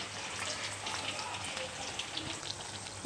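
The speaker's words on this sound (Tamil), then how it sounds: "கொஞ்சம் கொஞ்சமாக போட்டு பொரிச்சு எடுத்துக்கோங்க." Thattai, a Tamil rice snack, deep-frying in hot oil gives a continuous, fine crackling sizzle, steady and moderately close with scattered sharper pops.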